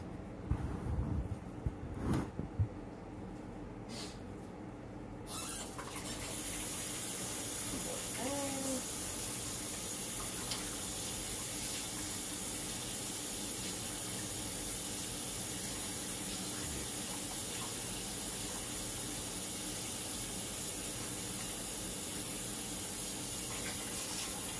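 Kitchen tap water runs steadily into a sink to wash rice, a constant hissing flow starting after a few seconds of quieter room noise and continuing loudly to the end.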